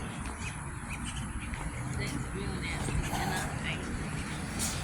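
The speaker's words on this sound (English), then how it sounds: "we're gonna scare away all these blackbirds" A large flock of blackbirds calls outdoors, a dense chorus of chirps and squawks under people talking.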